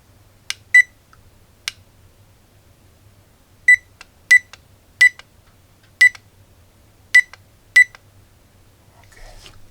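A cheap AliExpress alarm gadget gives short sharp electronic beeps as its setting buttons are pressed, about eight irregular chirps, some in quick pairs, with quiet pauses between them, near and clear.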